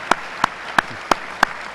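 Five slow, evenly spaced single claps ring out crisply after a poetry lecture, each one sharp and separate with quiet between, more like a lone pair of hands than a full crowd.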